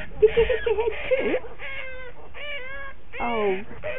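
A stranded cat on a balcony gives several close, loud meows, drawn-out and wavering with short pauses between, while a person talks softly to it.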